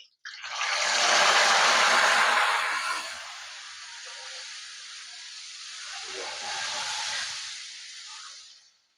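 Salt water poured into hot oil while frying raw banana wafers gives a loud, steady sizzling hiss that swells, eases off, then rises again before cutting out, heard close up with no talking.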